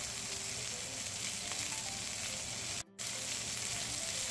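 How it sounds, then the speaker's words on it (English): Steak sears in a hot pan with a steady, dense sizzle that holds nearly unbroken from start to finish, close and even, with one brief dropout partway through. "But we want that first side to sear up nicely."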